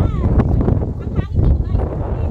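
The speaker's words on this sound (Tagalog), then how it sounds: "Ang hangin dito guys" Strong gusty wind on the Devil's Claw hike at Stanley, Hong Kong buffets the microphone in a steady low roar, with voices talking over it close by.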